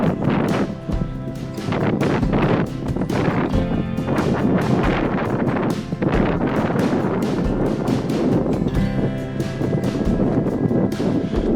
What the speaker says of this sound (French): Il y a toujours un vent de fou sur les hauteurs.